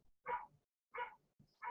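A dog gives three short, evenly spaced barks, fairly faint and alone against silence, played on a radio talk show.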